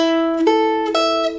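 Single guitar notes are plucked one after another, each cutting off the last rather than ringing together, clear and close with no voices.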